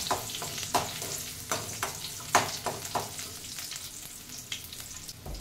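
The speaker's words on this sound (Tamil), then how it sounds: "சின்ன வெங்காயம் வந்து 2-3 வெங்காயம் மட்டும் போட்டு இதை வதக்கிடுறேன்" A few small onions sauté in a pan for papaya kootu. A soft, steady sizzle runs under intermittent spoon scrapes spaced about half a second apart, close up, with no voices.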